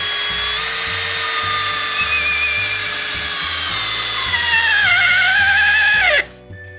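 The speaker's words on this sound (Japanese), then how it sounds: "下穴を開けた状態で締め付けてみたいと思います。" A HiKOKI DV12DD driver drill drives a long, thick screw into a pilot hole, its loud motor whine dropping in pitch as the load builds before stopping abruptly near the end.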